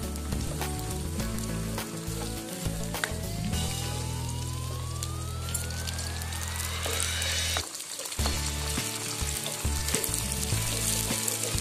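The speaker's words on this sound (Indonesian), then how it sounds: "Kemudian kita kocok lepas di dalam wajan saja." Egg being beaten and fried in a wok with wilted aromatics for mie goreng, a continuous loud sizzle with scraping and stirring bursts, a pause in the middle before the frying hiss resumes.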